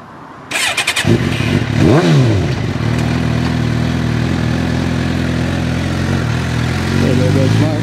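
A Suzuki GSX-R750 sport motorcycle starts up, revs and rides off, its engine note rising and falling loudly close by before settling into a steady drone.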